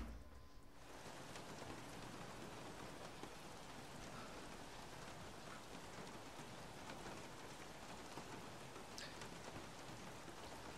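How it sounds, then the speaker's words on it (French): Steady rain falling in the Formula 1 racing game F1 2016 at the Italian Grand Prix, a constant dense hiss of drops filling the scene from start to finish, with no voices. "il pleut, youpi"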